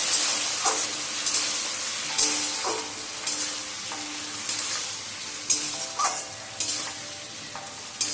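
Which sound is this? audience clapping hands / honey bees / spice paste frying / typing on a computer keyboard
spice paste frying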